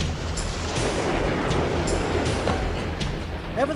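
A steam-era passenger train in The Last Express game rolls along at speed, a loud, continuous close rumble with rhythmic rail clatter and faint squeals, with no voices.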